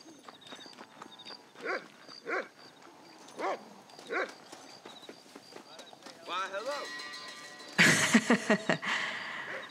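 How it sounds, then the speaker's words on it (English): A dog in Red Dead Redemption, heard as several short barks at a moderate distance, followed near the end by a louder burst of hoofbeats and movement noise, with someone talking over parts of it. "that dog just glitched in out of nowhere"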